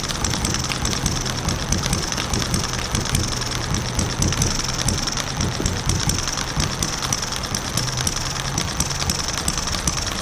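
A Porsche M96 flat-six engine starts for the first time and settles into a steady, loud idle with a rhythmic low pulse and mechanical clatter, running continuously without talk.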